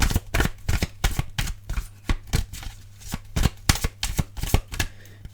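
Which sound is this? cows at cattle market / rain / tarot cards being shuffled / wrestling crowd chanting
tarot cards being shuffled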